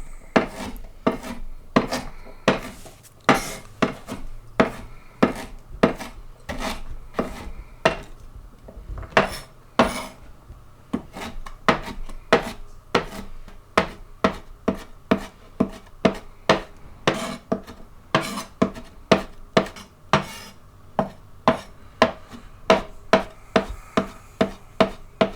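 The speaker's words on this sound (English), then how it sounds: "So you want to chop it up fairly finely." Beef for a samosa meat filling being chopped finely with a knife on a board: a long run of sharp, fairly regular knife thuds and clacks, close and loud, with no talking.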